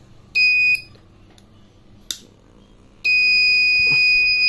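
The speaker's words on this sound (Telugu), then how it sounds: "బజర్ మోగుతుంది అండ్ కిట్ అంతా కూడా రెడ్ కలర్లోకి చేంజ్ అవుతుంది" A gas leak detector buzzer sounds in shrill, loud electronic bursts: one short blast, a brief click, then a sustained tone.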